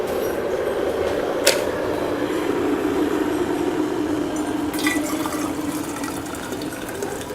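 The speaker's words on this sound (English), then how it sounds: "The tea kettle is at a good rolling boil, and I'm going to go ahead and pour it in here" Boiling water pours from a tea kettle into an insulated bottle, a steady rushing, filling gurgle with a rising tone, close and continuous with a couple of small clinks.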